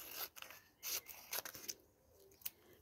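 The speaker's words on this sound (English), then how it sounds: "My gluey scissors." Gluey scissors cutting paper for an envelope craft project, a few quiet close snips and rasping cuts in short irregular bursts.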